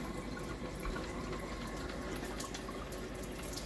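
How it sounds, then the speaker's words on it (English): Hands are washed under a running kitchen tap, with a steady, even rush of water splashing continuously throughout and no talking. "My producer is telling me to wash my hands for some reason."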